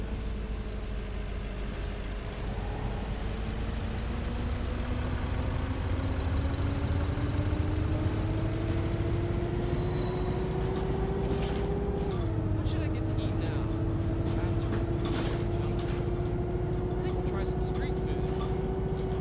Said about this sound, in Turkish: Yalnız bu arabanın da sesleri güzel ha.